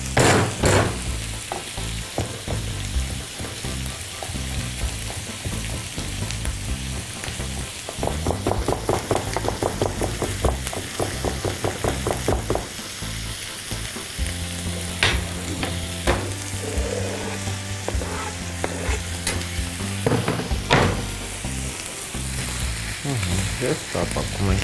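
Crushed garlic sizzles steadily in a hot pan while cooking bulgur with beans, a continuous loud frying hiss with occasional stirring scrapes and clinks, no voices.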